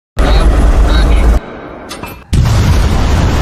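A film soundtrack of the Trinity test atomic bomb detonation from the 2023 film Oppenheimer: a sudden, very loud roaring blast dips briefly to a quieter rumble, then surges back to full, sustained intensity.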